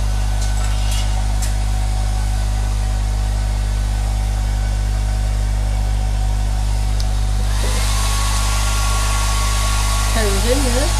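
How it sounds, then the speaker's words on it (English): A hair dryer blows with a steady, loud motor hum throughout, its airflow growing brighter and stronger partway through, while a voice speaks briefly near the end. "Another hairdryer down there if you need another one."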